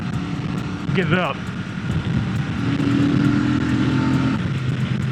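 A Royal Enfield Super Meteor 650 motorcycle engine droning steadily while riding on the road, a low continuous hum that rises slightly in pitch partway through, mixed with wind and traffic noise.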